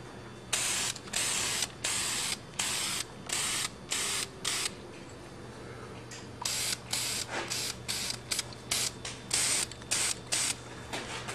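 Spray can bursts coating small go-kart parts such as a steering spindle in thin coats, a dozen or so short hissing sprays with brief pauses between them, close and loud over a steady low hum.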